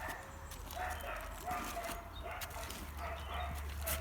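Dogs bark and yip at a distance near a narrowboat mooring, a few faint repeated barks over a low steady background hum.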